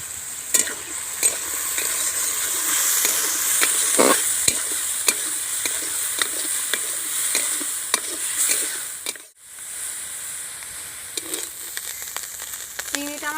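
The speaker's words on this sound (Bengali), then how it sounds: "চিংড়িটা আমার ভাজা হয়ে গিয়েছে" Prawns seasoned with turmeric and salt frying in a wok, giving a bright, continuous sizzle broken by repeated scraping stirs and clinks, with a brief drop in the hiss partway through.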